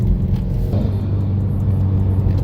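A 2018 Subaru WRX fitted with a WinJet fog light kit pulls hard under acceleration, its engine a loud, close rumble rising in pitch within a couple of seconds, with no voices over it.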